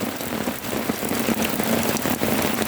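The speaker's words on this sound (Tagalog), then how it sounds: "Mas malakas yung ulan ngayon kaysa kahapon." Heavy rain in Paju, Korea pours steadily in a dense, continuous hiss with scattered drops striking a surface, and a faint low engine rumble underneath.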